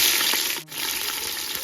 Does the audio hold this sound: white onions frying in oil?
yes